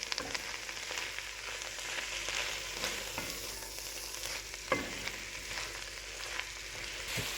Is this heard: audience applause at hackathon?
no